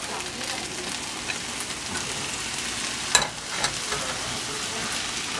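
Corn stirred in a hot pan, a steady crackling sizzle with brief scraping stir noises around the middle, close and moderately loud.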